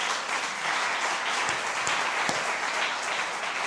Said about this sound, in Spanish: Denle un aplauso a Dios.